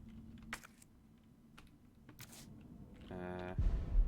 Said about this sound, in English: I'm just sort of pressing keys randomly